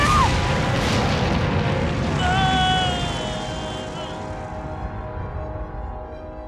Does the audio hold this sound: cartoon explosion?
yes